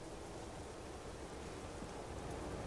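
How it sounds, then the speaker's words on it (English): Heavy, pouring rain in the truck-driving game Euro Truck Simulator 2, a dense, steady hiss of rainfall that stays even and continuous throughout, with no voices over it. "Pouring rain."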